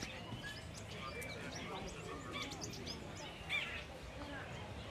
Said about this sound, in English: I am not hanging out with all these birds.